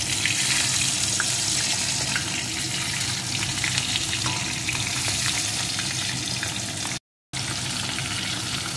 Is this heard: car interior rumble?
no